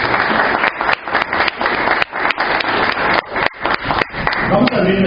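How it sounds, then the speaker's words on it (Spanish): A church congregation gives loud welcoming applause, sustained and crowded, with sharp individual claps punching through the dense patter and a voice rising near the end. "Démosle ese fuerte aplauso de bienvenida."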